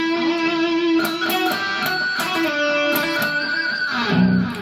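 Electric guitar solo with pinch harmonics: distorted sustained notes and quick picked runs ringing out loud and alone, a squealing high bend near the end.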